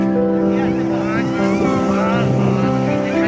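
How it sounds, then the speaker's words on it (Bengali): A boat motor drones steadily close by as the boat comes in toward the sea shore near a ghat, its sustained engine tones running throughout with people talking over it. "ও একটা বোট আসছে"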